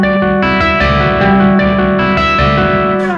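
An electric guitar plays the riff in standard tuning, loud and close through a distorted, chorus-tinged effects tone, with a steady run of rhythmic picked notes and no talking.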